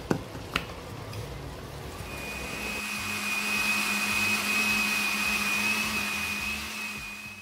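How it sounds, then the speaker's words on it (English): A countertop blender whirs steadily as it purees tomatoes, onions and turkey berries with water for Ghanaian palm soup. It starts after a couple of small knocks and holds a loud, even motor drone with a high whine. "add some water and blend."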